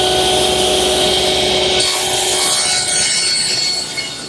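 A saw cuts a 28-inch wooden piece guided along a fence: a loud, continuous grinding whine that holds steady, then shifts and begins to wind down near the end. No one speaks.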